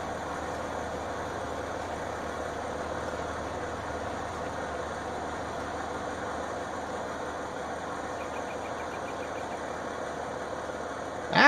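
A tractor engine in Farming Simulator 19 idles and drones steadily at a moderate level for several seconds, with a faint ticking near the end and a sudden louder burst right at the close.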